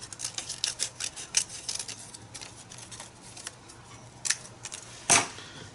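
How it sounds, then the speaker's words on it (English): Scissors snip straight through paper in a quick run of close, crisp cuts, ending with one sharper louder snip, and no one speaks. "so I'm just going to cut it straight."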